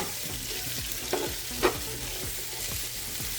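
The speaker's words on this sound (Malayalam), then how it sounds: "ഇനി ഉള്ളി ഇവിടെ കിടന്നു നല്ലവണ്ണം ഒന്ന് ബ്രൗണിഷ് ആകും." Chopped onions frying and being stirred in a pan on the stove while the cooking goes on; a steady sizzle runs throughout, with a few brief scraping stir sounds and no talking.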